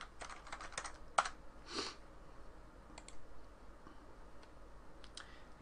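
A password being typed on a computer keyboard: faint, irregular key clicks in small clusters, heard close by in a quiet room with no talk.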